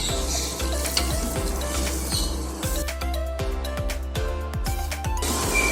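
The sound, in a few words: tomatoes and curd sizzling in a biryani pot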